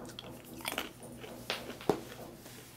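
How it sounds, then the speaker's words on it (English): Thin, crispy plantain chips from an MRE-type meal pack are bitten close up, giving three or four sharp crunches spaced over a couple of seconds amid soft chewing. "Let's try these plantain chips."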